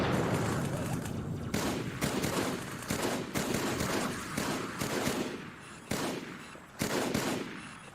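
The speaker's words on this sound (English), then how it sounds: "Yeah, the battle rifle was not a burst here." Battle rifle gunfire in Halo 2 on PC, a rapid string of loud sharp shots fired in quick bursts and single cracks, with short pauses between volleys over game background noise.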